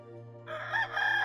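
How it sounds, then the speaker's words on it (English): A rooster lets out a full cock-a-doodle-doo, loud and close, rising and wavering over a faint low hum. "A rooster crows to greet the day."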